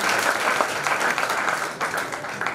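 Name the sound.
applause welcoming a performer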